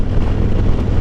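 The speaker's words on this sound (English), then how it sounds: "I wonder if that would help with the wind coming up" Wind buffeting past a helmet on a moving motorcycle, a loud, steady roar of rushing air across the microphone that fills the whole moment without any talking.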